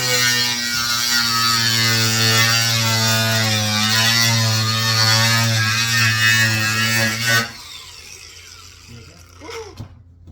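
A power tool blade buzzes loudly, cutting through a plastic part on a 2015 Fiat Abarth, its motor pitch sagging slightly before it cuts off abruptly, followed by light clattering in the quiet.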